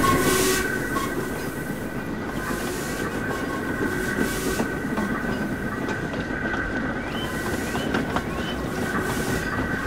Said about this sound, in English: Gordon's speech was interrupted by a booming whistle in the distance.